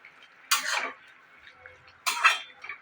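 Pumpkin greens stirred in a pan after a pinch of sugar is added, giving two brief scraping, clattering bursts of utensil against metal, close and fairly loud, with quiet gaps between.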